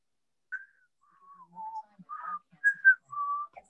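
A person whistling a loose, wandering tune of short pure notes and slides with gaps between them, fairly quiet and close, no talking.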